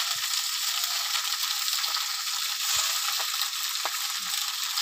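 Spinach dropped into spiced oil in a pan for a quick spinach and masoor dal, giving a steady, close hissing sizzle throughout with a few soft clinks and stirring knocks.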